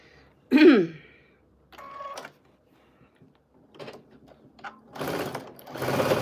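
A sewing machine quilting a paper-pieced project runs in short bursts, a close motor whir and needle chatter starting and stopping several times, louder and longer toward the end, with no talk.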